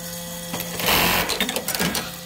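A Juki LK1903BN-BR35 button sewing machine with a robotic feeder stitches a button held in its clamp, a fast mechanical whirring and rapid clatter that rises into a busy burst before easing off.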